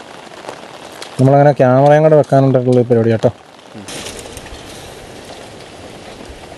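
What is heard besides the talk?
heavy rain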